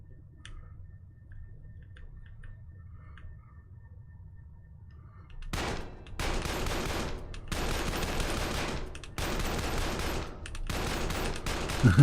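Video game gunfire aimed at test bots: after six seconds of near silence, rapid loud bursts of shots break out, firing in several sustained volleys with brief gaps between them until the end.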